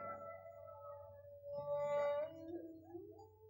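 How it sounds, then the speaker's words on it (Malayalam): Dogs howl at night in long, wavering, mournful calls that rise and fall, fairly faint and distant, with no other voices. "എവിടൊക്കെയോ പട്ടികൾ ഓലിയിടണു."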